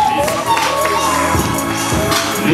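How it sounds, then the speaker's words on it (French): Wedding guests cheer and clap in a festive hall, steady broadband applause and voices with music underneath, moderately loud and continuous. "Les acclamations pour les couples parents"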